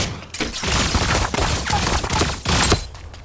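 Rapid bursts of gunfire crackle loudly and almost continuously during a match in the mech battle royale game Super Mecha Champions, with heavy impacts between volleys and no talking.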